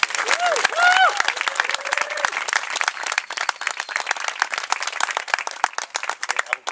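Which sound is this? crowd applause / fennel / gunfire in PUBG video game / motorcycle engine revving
crowd applause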